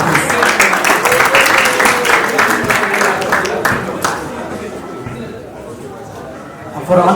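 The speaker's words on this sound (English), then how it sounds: "Give him a round of applause, please." Audience at an awards night gives a round of applause, dense clapping that is loud at first then thins and fades, with a voice heard over it.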